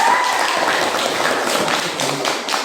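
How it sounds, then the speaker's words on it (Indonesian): A classroom of students claps for a presenting group, a short burst of lively, fairly close hand clapping that ebbs slightly toward the end, with a faint squeaky tone at the very start. "Tepuk tangan dulu untuk kelompok 2."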